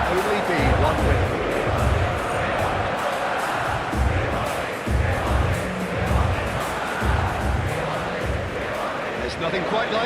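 A stadium crowd at a Spain versus France World Cup match in PES 26, a loud continuous roar of massed voices with rhythmic chanting surges, heard beneath a commentator's voice.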